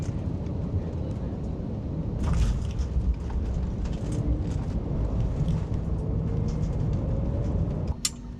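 An airliner landing at Delhi airport, heard as a steady, loud, low rumble with rushing roar and scattered rattles and thumps, continuous throughout with no talking.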